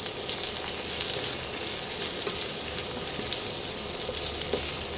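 Tomato pieces and ginger frying in a pan for spinach chicken, a continuous close hiss of sizzling oil with scattered small pops and crackles, no talking.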